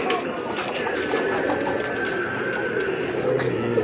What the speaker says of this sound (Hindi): ये हमारे पास जो है वो 81 नंबर कबूतर आ गया